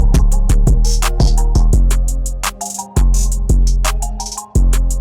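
An FL Studio rap beat with its background melody taken out: punchy kicks and crisp hi-hats drive a steady pattern over deep sustained bass notes, loud and close, with brief dropouts between hits.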